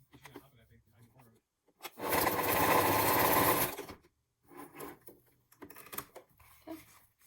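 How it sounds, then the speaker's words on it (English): A sewing machine stitches a folded leather edge for a crossbody bag, running in one steady burst of about two seconds, with talk before and after. "All I do is just folding over and stitching it."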